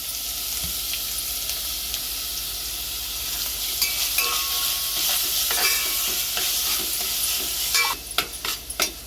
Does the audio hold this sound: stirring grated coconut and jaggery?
yes